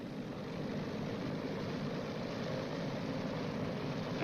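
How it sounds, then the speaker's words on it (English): Boeing B-29 bomber engines run up together to 1500 RPM before takeoff, a steady, loud, continuous propeller drone and rumble that holds evenly throughout without pause. "the pilot increases all throttles to 1500 RPM"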